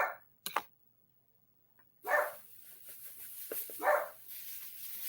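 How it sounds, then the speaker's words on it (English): A dog barks outside in a few sharp, moderately distant bursts separated by quiet gaps, with indoor room noise between the barks. "Oh, that silly dog. Standing out there barking again."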